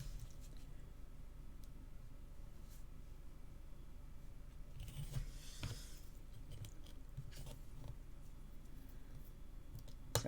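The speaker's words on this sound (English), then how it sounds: "So let's cut our lines now." Scissors or a craft knife cutting card along score lines for a diamond flip fold card, heard as soft close clicks and snips over steady low room noise, busiest in the middle.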